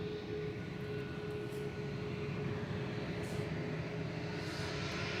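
A TUI airliner bound for Cancun takes off at Manchester Airport, giving a steady, distant broadband engine rumble with a faint sustained tone, even in level throughout.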